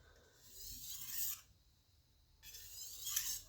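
A chef's knife drawn lightly across a sharpening stone to clear off the burr, two soft rasping strokes separated by a brief pause, quiet and close.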